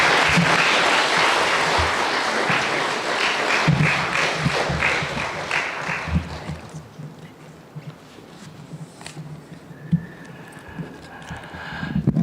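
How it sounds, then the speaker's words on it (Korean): Congregation at a Korean Sunday church service applauding to welcome the pastor, a dense wash of clapping from many hands that gradually thins and fades, with scattered claps trailing off. "우리 박수로 목사님 환영합니다."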